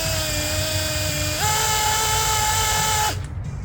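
An air impact gun whirs on a Godzilla 7.3 engine, a close, loud, steady high-pitched spin that steps up in pitch partway through, then cuts off abruptly.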